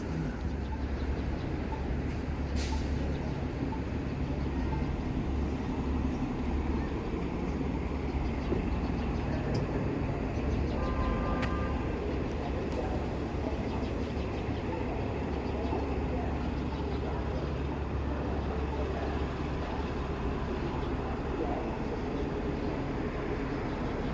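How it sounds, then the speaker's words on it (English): A train rumbles across a city overpass in Toronto near Victoria Park Station, a steady heavy low roar with rattling wagons throughout, mixed with street traffic; a brief squeal rises partway through. "I like seeing the train go over this overpass."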